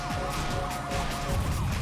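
In a PlayStation 2 racing video game, an ambulance siren wails steadily at loud volume over engine noise and game effects, sweeping its tone up and down without pause.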